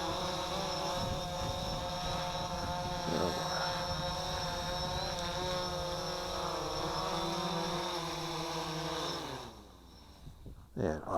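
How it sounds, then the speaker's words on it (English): The propellers of an XK X500 drone whir steadily during an automatic landing, a dense buzzing hum that continues for several seconds before winding down and falling away near the end. "I'm going to hit automatic landing."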